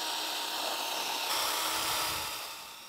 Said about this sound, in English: without a grinder at hand, I'm using a wire brush